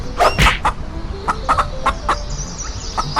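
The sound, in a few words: chicken clucking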